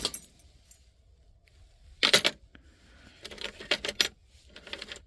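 A set of GM car keys jangles in short metallic bursts, close and fairly quiet, with a few bright clinks scattered between brief pauses.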